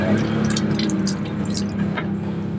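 Water, likely boiled, pouring steadily from a plastic container into another vessel, a continuous close trickle and splash lasting a couple of seconds.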